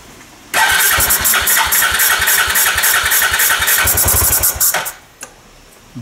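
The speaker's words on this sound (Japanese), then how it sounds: "それが綺麗に吐き出されるまでちょっとエンジンかかり悪いです" A Suzuki Skywave 400 scooter engine, with cleaning agent in it, cranks and sputters for a few seconds, running roughly and unevenly before cutting out, followed by a brief silence and a faint click.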